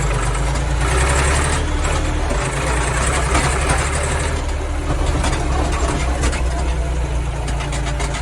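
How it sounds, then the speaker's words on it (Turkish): A Massey Ferguson 240 tractor with original cab, its engine running steadily and loudly nearby, a constant low rumble with no voices over it. "Motor dönüyor ya."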